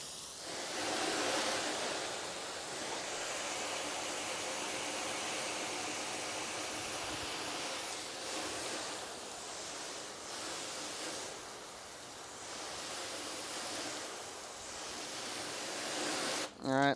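Water sprays from a hose onto a freshly ceramic-coated car during its first wash, a steady broad hiss rushing continuously at close range with slight swells in intensity.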